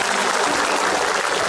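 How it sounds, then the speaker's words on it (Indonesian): Studio audience applause during an Indonesian comedy show, a steady dense wash of clapping filling the short stretch at close range with no break. "Itu semuanya tepuk tangan benar"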